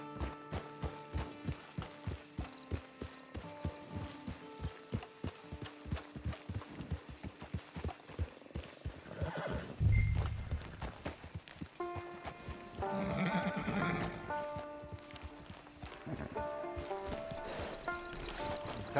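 Rhythmic hoofbeats of a galloping horse in Red Dead Redemption 2, with a music score layered on top, occasional whinnies and a louder burst midway.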